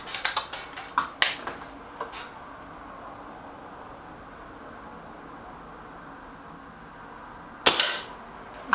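Air rifles (a Reximex Myth and a Kral Puncher Maxi) fire at a target, producing a cluster of sharp snapping cracks early on, then a quiet stretch, then another loud crack near the end.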